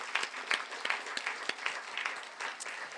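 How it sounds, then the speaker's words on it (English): A small lecture audience claps and applauds at moderate distance, scattered hand claps overlapping for a few seconds with faint background murmur. "Can we give her a round of applause?"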